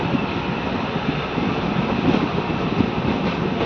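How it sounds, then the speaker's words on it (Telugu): A Nandyal-Kurnool DEMU train rolls into Krishnamma Kona station, giving a steady, loud rumble of wheels and carriage noise with wind buffeting the microphone and no talking. "కృష్ణమ్మ కోన రైల్వే స్టేషన్కి మన ట్రైన్ చేరుకుంది"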